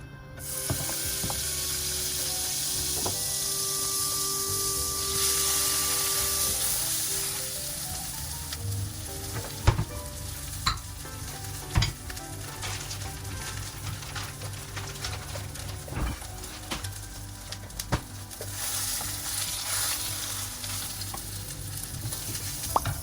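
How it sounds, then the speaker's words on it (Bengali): A folded tortilla wrap fries in butter in a pan, giving a steady sizzle punctuated by sharp scraping and tapping clicks from a utensil, with no voices. "তো এখন এটাকে একটু ফ্রাই করে নিব, আর সেটার জন্য আমি এই যে বাটার ইউজ করব।"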